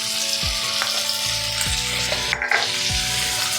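Garlic and ginger paste fries in a pan for a rohu fish curry, a close, strong sizzle running throughout, broken by a few scraping stirs and a brief clatter near the middle.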